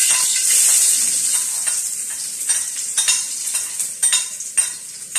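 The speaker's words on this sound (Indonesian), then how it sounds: "Oke, kita goreng dia guys. Nih, pakai bawang merah, bawang putih." Shallots and garlic frying and being stirred in a pan, a steady close sizzle with a brief high hiss early on and repeated scraping stirs throughout, no voices.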